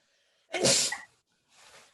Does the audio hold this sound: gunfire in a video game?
no